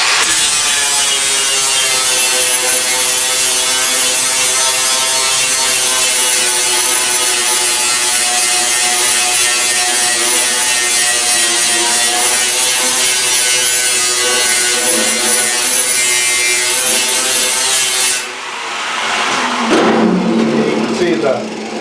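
A Ryobi 4.5-inch angle grinder with an 80-grit flap disc works the metal of a 1968 El Camino door skin, giving a loud, steady, high grinding whine that runs without a break before cutting off near the end.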